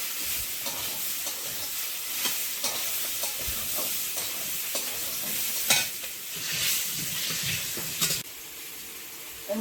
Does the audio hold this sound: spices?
yes